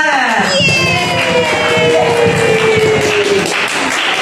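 Schoolchildren in a classroom clap and cheer together, a loud burst of shouting and clapping with an excited high-pitched voice rising over the group.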